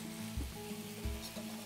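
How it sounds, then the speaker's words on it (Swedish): Potatoes frying gently in a pan, a steady close sizzle with soft low thumps of stirring or pan movement, no voices present. "Och potatisen får steka lugnt och fint här."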